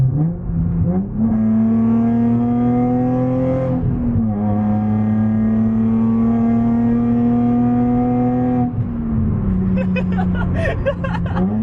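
A Nissan 350Z sports car engine without its plenum spacer idles loudly and then revs up and back down several times, with a raspy tone and a slight whine at the top.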